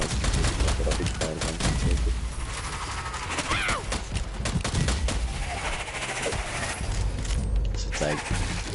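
Dense, continuous gunfire and blasts from a chaotic fight in the co-op shooter Strange Brigade, loud and unbroken throughout, with voices mixed into the din.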